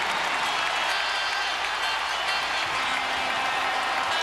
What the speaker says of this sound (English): The crowd in a frenzy here at the Toyota Center